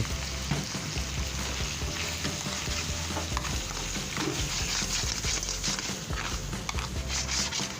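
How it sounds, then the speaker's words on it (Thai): Green onion, celery and onion are stir-fried with crab meat in a hot pan, a close, continuous sizzle with clattering stirring throughout and no speech. "ผัดต้นหอมแล้วก็ขึ้นช่ายแล้วก็หอมหัวใหญ่ ให้เข้ากันกับเนื้อปูก่อนนะครับผม"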